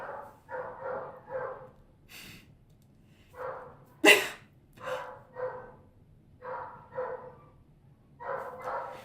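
A small dog and a service dog on one floor give short, sharp barks in several bursts, with one loud close yelp standing out above the rest and fairly clear gaps between the barks.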